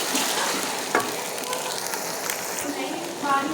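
Garlic, ginger and green chili paste sautéing in a pan for a mash dal gravy, a steady crackling sizzle with occasional stirring scrapes, moderately close.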